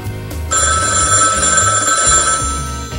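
A telephone bell rings in one sustained, bright burst lasting about two seconds, loud and close, with a low background rumble before and after.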